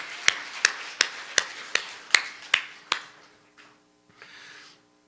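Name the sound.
congregation clapping in church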